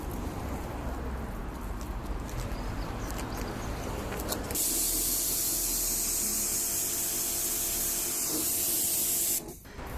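A pressure washer rinses tar remover off the paintwork of a Mercedes E220d: a quieter patter gives way to a loud, steady, close hiss of spray that cuts out abruptly near the end.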